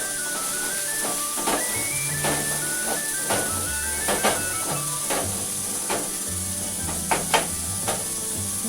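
Onions sizzle in oil with turmeric, chilli powder and salt, a constant soft hiss with faint spatters running beneath a melodic background music track; nobody speaks.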